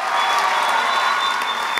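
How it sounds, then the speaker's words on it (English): Applause for the governor and his education staff at a high school event: dense, steady clapping from a large crowd, loud and sustained throughout with no individual voices standing out. "So round of applause for Governor Baker and his education staff."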